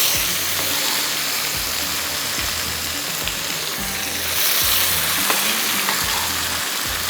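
Tomatoes go into a hot tarka of onion, cumin and black peppercorns, setting off a steady, close sizzle and bubbling fry that runs on continuously, with faint stirring clatter and no voices.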